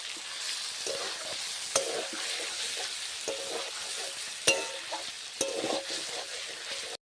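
Four chopped chillies go into a chicken stew frying in a pot, with a steady loud sizzle throughout and several sharp clacks of a spoon stirring and scraping the pan.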